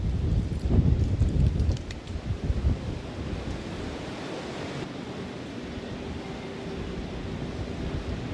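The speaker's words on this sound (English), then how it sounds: "Imagine what that wind would do to you." Wind and ocean surf roar on the Florida coast after Hurricane Helene. A loud gusting rush in the first seconds settles into a steady, broad wash of wind and waves.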